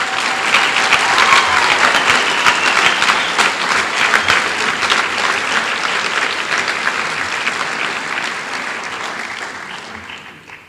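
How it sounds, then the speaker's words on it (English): Audience applause for scholarship students at a senior recognition ceremony, loud sustained clapping from a large crowd that gradually fades over about ten seconds. "Can we have a round of applause for those students"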